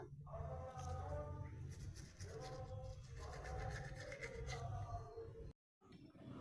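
A toothbrush scrubs a two-year-old boy's teeth in steady rubbing, scraping strokes, close and fairly loud, continuing for several seconds with a short break near the end; an adult coaxes the child at times.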